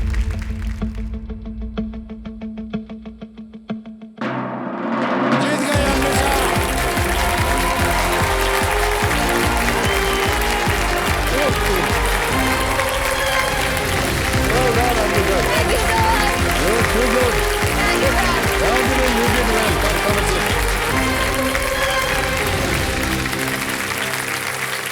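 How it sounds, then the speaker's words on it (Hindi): Kaun Banega Crorepati studio audience breaks into sustained applause after a short musical sting, a thick, even wall of clapping that runs loud and unbroken for over twenty seconds. "तालियां बजाएं इनके लिए"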